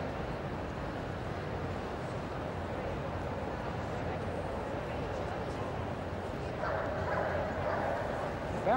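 A dog barks amid the hall noise of a Crufts 2000 obedience competition, the barks sitting low and distant in a steady crowd murmur, with people talking nearby.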